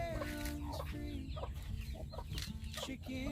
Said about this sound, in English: Chickens clucking